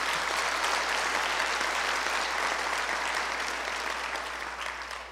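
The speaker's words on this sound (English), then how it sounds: "Another round of applause." Sustained applause from a conference audience at a library technology gathering, steady and dense throughout, tapering slightly toward the end with no talking over it.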